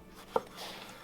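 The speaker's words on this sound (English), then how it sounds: "Cut it again" A single knife chop through eggplant while cutting it into sticks, one short crisp knock on the board standing alone in a quiet kitchen.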